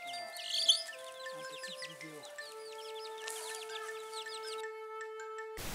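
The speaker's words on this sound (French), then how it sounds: "Les poules ont plein de petits poussins et tout se trimballe en liberté" Free-ranging hens with chicks on a village farm in Vietnam cluck and peep softly in short bursts, with faint chirps over a steady tonal hum.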